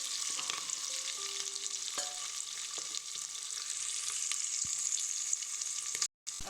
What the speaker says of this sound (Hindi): जीर तेजपात पकला के बाद प्याज देला के बाद में किछु काल प्याज के भूजे के छै